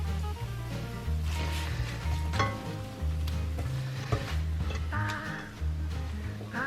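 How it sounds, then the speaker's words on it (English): Vegetables and fake bacon stir-fry in a pan with a loud continuous sizzle, broken by irregular scraping and tapping from stirring, up close, while background music plays underneath. "I added in the rest of the vegetables and had that stir fry for a little bit."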